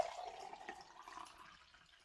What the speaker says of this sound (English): I'm going to pour off the Rejuvelac now.